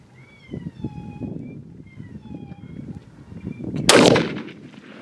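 A single sharp rifle gunshot cracks out during a deer hunt in Tennessee, loud and close, after quiet whispered voices and faint outdoor background.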